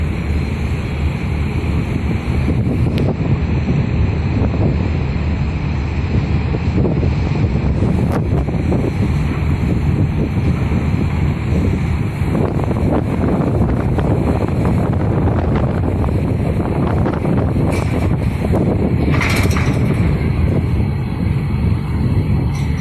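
Strong southerly wind buffets the microphone at a ferry dock at night, a constant loud roaring rush with gusting surges and faint water and vessel rumble beneath, no talk.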